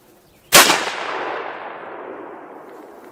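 A single .338 Lapua rifle shot from a 10 to 11 pound rifle during sighting in, cracking loud and close and then rolling away in a long, fading echo.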